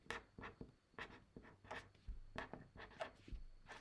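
Handwriting on paper during a class lesson: a pen scratches in a steady run of short strokes and pauses, close and moderately loud, with no talking.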